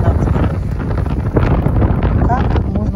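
Heavy wind buffets the microphone in a loud, continuous roar, with a voice faintly mixed in beneath the gusts.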